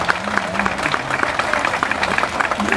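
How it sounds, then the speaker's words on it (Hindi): A crowd greets a mayoral candidate at an Indian political rally with lively, continuous applause: dense overlapping claps, close and loud, with a few voices faintly mixed in. "जोरदार तालियों से इनका स्वागत कीजिए"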